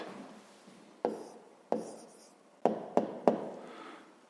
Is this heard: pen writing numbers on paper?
yes